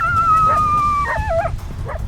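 A coyote barks, yips and howls back toward hunters in open country, a long wavering howl breaking into a string of quavering yips and barks over steady low background rumble.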